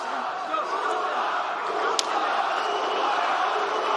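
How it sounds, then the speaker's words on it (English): A pro-Nurmagomedov arena crowd roars steadily inside the Etihad Arena during a UFC fight between Umar Nurmagomedov and Cory Sandhagen, a loud, continuous wash of cheering with one sharp slap-like smack midway and commentary over it. "Pro-Nurmagomedov crowd here inside the Etihad Arena."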